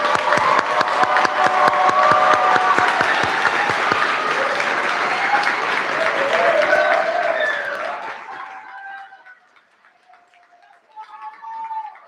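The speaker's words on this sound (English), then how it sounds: "Let's give them one more round of applause." Sustained audience applause fills a middle-high school graduation ceremony for about eight seconds, loud and dense with cheering mixed in, then fades out while a few voices talk faintly and a brief patter of claps returns at the end.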